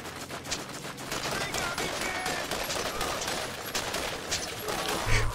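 Sustained gunfire in the video game Borderlands, dense and steady throughout, with overlapping bursts that sound like rapid automatic fire mixed with louder individual shots, all fairly close and continuous.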